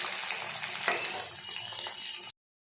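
Grated ginger, spices and chopped tomato fry in a pan with a steady, bright sizzle that runs evenly for about two seconds and then stops abruptly.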